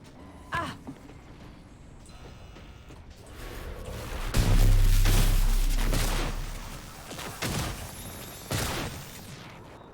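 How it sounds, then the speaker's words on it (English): Shotgun blasts in the video game Prey, several loud booming shots spaced irregularly with one heavy low rumbling burst in the middle, set against game background noise. "Alright, trusty shotgun."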